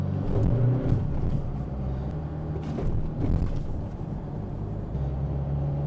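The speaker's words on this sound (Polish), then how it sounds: "przyspieszam sobie i nie, i nie odejmując gazu, zmieniam bieg" Car with an automated manual gearbox accelerating hard from second gear, engine note rising and then briefly dipping as it changes gear without lifting off the throttle, steady and fairly close, with no talk.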